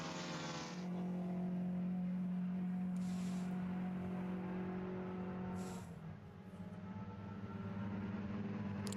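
Race cars from an SCCA Majors Tour event at Summit Point roar past on track, including boxer-engined cars, with a steady loud engine drone, a second car's sweep arriving midway and continuous motor noise throughout, no talk.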